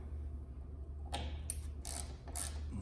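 A hand ratchet backing screws out of a Jeep Gladiator Rubicon sunshade, a few short clicking bursts over a low steady hum, close and fairly quiet.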